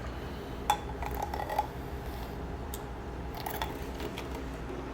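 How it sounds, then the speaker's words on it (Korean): A handheld milk frother whirs steadily through a thick cheese latte made with powder, giving a continuous low buzz with a few light clinks against the cup. "이런 우유 거품기로 잘 섞어주세요."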